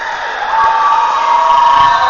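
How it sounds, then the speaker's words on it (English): A packed high school gym crowd at a Minnesota versus Wisconsin volleyball match roars and cheers continuously, swelling louder partway through with whoops and shouts, loud and close throughout. "Listen to this crowd. They are jacked."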